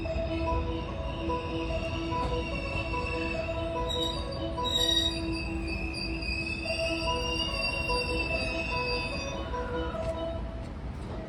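A JR West 223 series 2000 train pulls into Shin-Osaka station, wheels squealing loudly and steadily over a constant rumble of rolling stock, with layered high-pitched tones shifting as it slows alongside the platform.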